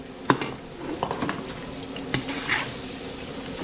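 Garlic and onion sauté in a pan for a large batch of picadillo, a soft, close sizzle broken by sharp clanks and scrapes of stirring, with some running-water sounds in the background.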